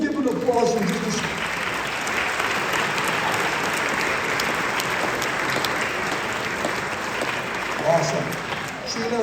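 An audience at a basketball reunion honoring the 2001 team claps in sustained, loud applause that keeps steady throughout, with a slight swell near the end.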